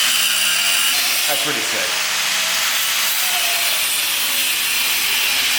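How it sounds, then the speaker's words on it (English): Power tool cutting through the steel wheel studs of a Subaru STi being fitted with track plates, a harsh grinding rasp rising and falling across the clip, with people talking over it. "So we have to cut the studs so we can actually put the plates on."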